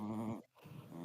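A dog growls close by in a steady, rumbling snarl, breaks off for a brief moment, then growls again more roughly.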